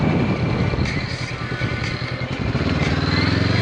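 Motorcycle engine droning steadily while riding on a road trip to West Montrose, Elora and Fergus, loud and close with constant wind-rushed broadband noise and no talking.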